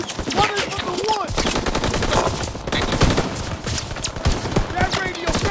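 Dense rapid gunfire rattles nonstop in a Call of Duty WWII battle during the Battle of the Bulge, loud and close bursts layered with shouted voices over the fighting.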